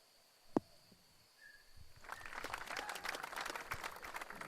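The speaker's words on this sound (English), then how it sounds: "acknowledging the crowd's applause" Crowd applause in the 1984 PC golf game Action PC Golf at the Hawaiian Open, swelling from a quiet start with a sharp click into sustained, moderately loud clapping that continues to the end.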